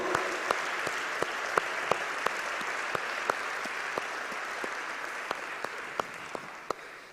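A church congregation applauds steadily for several seconds at moderate distance, a dense even wash of clapping with a few sharper individual claps standing out, gradually thinning toward the end.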